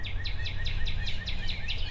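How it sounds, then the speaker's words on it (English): A cardinal gives a rapid run of about eight evenly spaced downslurred whistles, clear and moderately close over low background rumble. "It's a cardinal."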